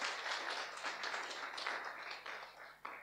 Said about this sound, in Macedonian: Добар момент за аплауз овдека заради надежта